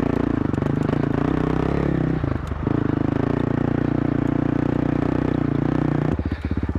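Honda CRF450L dual-sport motorcycle grinding slowly up a loose, rocky hill, its engine a loud, steady low drone close to the mic, briefly dipping and then picking up with sharper pulses near the end.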